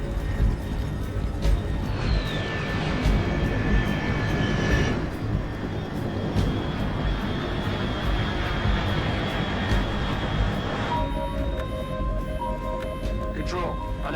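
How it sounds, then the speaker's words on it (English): A fast unidentified aircraft at altitude in the stealth video game Metal Gear Solid Delta: Snake Eater, a steady droning engine roar sustained throughout, with faint tonal radio or interface sounds layered over it. "Control, unidentified aircraft detected"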